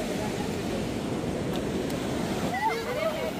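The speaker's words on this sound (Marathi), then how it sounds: "हे श्लोक मोठी मोठ्या लाट आल्या" A steady roar of monsoon surf washes continuously nearby on a Ratnagiri beach, with a brief voice rising over it near the end.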